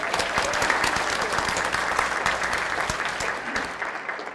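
A short burst of crowd applause at a school presentation on language education, dense clapping that stays steady then begins to taper off near the end.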